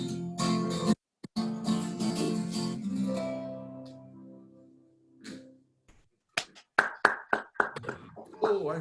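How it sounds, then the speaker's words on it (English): Sung notes with accompaniment fade out, then after a pause a few scattered audience claps sound at a talent show, sparse and uneven, close and moderately loud. "I heard someone clapping"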